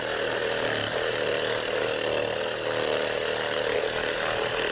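A chainsaw runs steadily at full throttle, slicing chunks off a tree stump at an angle; the loud, continuous engine whine holds without pause and no one speaks.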